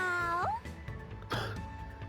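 A cat meow in the Danganronpa 2 video game, one short meow followed by a second fainter mew over soft background music.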